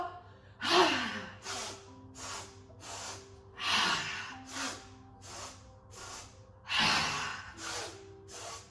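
Yoga breathing with repeated forceful exhales through the mouth, loud close breathy gusts recurring in a rhythm of about every three seconds, with softer breaths between them.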